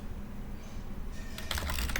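Code being typed on a computer keyboard, a quick patter of close, crisp key clicks that starts after a second of low room hum and continues in a rapid irregular run.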